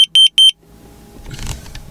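A carbon monoxide alarm inside a van gives three sharp, loud, high-pitched beeps in quick succession, followed by low rumbling handling noise.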